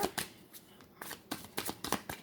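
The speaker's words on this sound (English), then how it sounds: "And I shuffle them in front of you so you can see it." Tarot cards being shuffled by hand in a card reading, a run of quick crisp riffling bursts close to the mic, with no talking over them.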